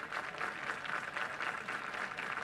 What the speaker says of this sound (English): The crowd trying to urge Kavan on to get the last out here